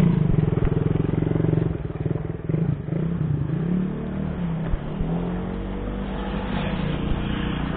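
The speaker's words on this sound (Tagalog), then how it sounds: "Breezy na breezy yung motor ni Chester ah." A motorcycle rides along a street in Dagupan, Pangasinan, its engine droning steadily and close throughout, revving at the start before settling into an even hum.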